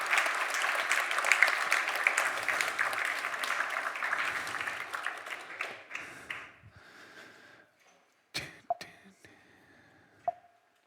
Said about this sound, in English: A little bit of applause for Linda, please